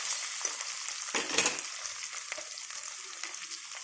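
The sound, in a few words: stirring potatoes frying in a pan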